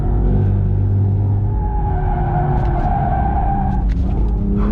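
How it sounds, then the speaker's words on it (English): A car power sliding with its tires skidding, a loud, close engine roar holding a steady low rumble under a drawn-out tire squeal that swells and then fades within a few seconds. "Now, look at this video of me drifting."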